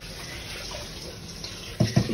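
Tap water runs steadily into a bowl while raw chicken is rinsed for Jamaican-style fried chicken, a continuous splashing hiss that ends in a couple of louder, nearby sloshes.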